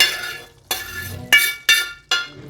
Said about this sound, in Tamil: இப்போ நம்ம அந்த வறுத்து வச்ச முட்டையை போட்டுக்கலாங்க